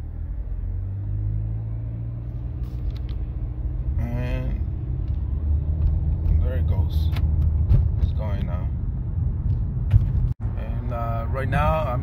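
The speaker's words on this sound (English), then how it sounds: "Right now, I'm just driving at a highway speed, and it's running just fine." Nissan Altima engine running while driving at highway speed, a steady low rumble and road noise throughout, with a person talking over it.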